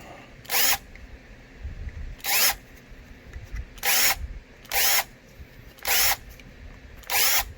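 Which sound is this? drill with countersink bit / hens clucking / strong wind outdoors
drill with countersink bit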